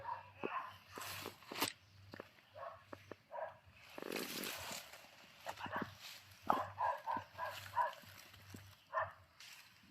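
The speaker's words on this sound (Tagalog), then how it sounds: "Parang malapit yung aso ah." A dog barks several times at close range amid rustling footsteps and faint murmuring voices, with irregular pauses between the barks.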